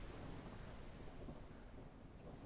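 Video game thunderstorm: a steady, loud wash of heavy rain with deep thunder rumbling underneath, continuous and enveloping throughout with no voices.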